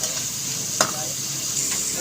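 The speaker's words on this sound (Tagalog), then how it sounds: "Kamatis, sibuyas, tapos yung pork belly. Ginisa ko na." Pork belly sizzles in a pan with tomato and onion, a steady close frying hiss with a couple of brief stirring scrapes.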